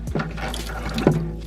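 A hand-pump tap at the sink of a camper van in New Zealand squirts water in two short gushes, close and fairly loud, with no talking.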